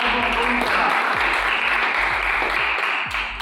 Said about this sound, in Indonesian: aplaus untuk kelompok kontra